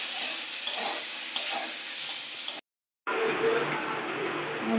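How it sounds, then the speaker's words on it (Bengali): Fish curry is stirred and sautéed in a pan with a close, continuous sizzle and scraping that cuts out briefly before resuming. "এখন তো কষাই একটু ভালো করে।"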